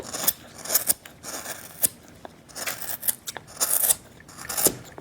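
A knife carves wood for a Saint Nicolas figure, with the blade cutting towards the carver. It makes crisp, quiet scraping and slicing strokes in irregular bursts, close up and without talk.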